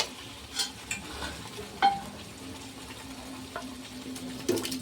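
Cooked chickpeas stirred into frying masala in a pan: a soft, low sizzle under scattered scrapes and clinks of a spoon against the pan, with a few sharper knocks.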